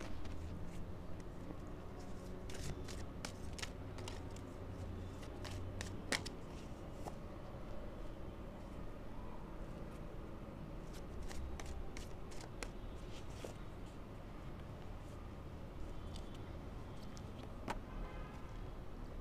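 Tarot cards being shuffled and handled in a steady run of soft papery flicks and riffles, with occasional sharper snaps, sustained close by over a low background hum, no one speaking.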